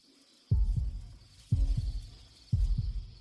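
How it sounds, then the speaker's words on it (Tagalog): A fast heartbeat sound effect, three evenly spaced double thumps about a second apart, deep and booming over a faint hum, with no voices. "bumibilis ang tibok ng puso ko"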